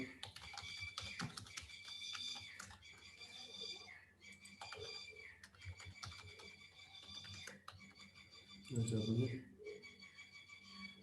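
A password being typed on a computer keyboard as quick bursts of key clicks with short pauses between them. A brief louder knock comes near the end.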